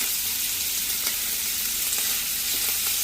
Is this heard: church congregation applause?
no